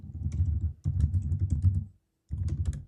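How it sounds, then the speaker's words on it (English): Fast typing on a computer keyboard, close and crisp, in two quick bursts of rapid key clatter separated by a short pause, with no talk. "Wow, I typed that way too fast."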